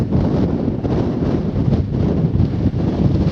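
Strong wind buffets the microphone on a hill walk above Church Stretton in the Shropshire hills, with a loud, continuous low roar and gusts and no talking.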